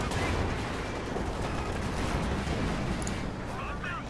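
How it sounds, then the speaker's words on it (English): Tank gunfire in Company of Heroes 2, with Sherman and 57 mm guns hitting a Panzer IV, dense rumbling booms and battle noise filling the clip, loud and sustained, with faint game sounds mixed in. "Massive hit on the Panzer IV there from both the 57 and the Sherman."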